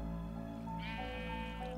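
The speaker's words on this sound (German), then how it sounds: "Hier, guck mal das Schaf an." A blocky sheep in Minecraft lets out a short, nasal bleat over a steady background of game ambience and music.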